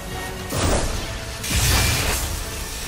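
Two heavy crashing impacts as a warbot is smashed in a Thor superhero video game, each a loud burst with a deep low-end thud, the first around half a second in and the second a second later, over a steady background hum.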